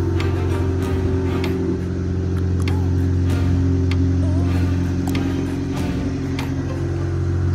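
A car with a freshly replaced water pump runs steadily as it warms up, a continuous, close, low engine drone holding an even pitch with no voices over it.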